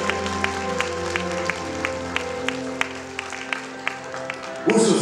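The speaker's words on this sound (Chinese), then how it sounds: "我恳请现场的所有来宾，用您热情的掌声。" Wedding guests applaud as the bride's father leaves at a ceremony in Yingkou, China: a steady wash of clapping carries under occasional sharp claps, then swells louder near the end.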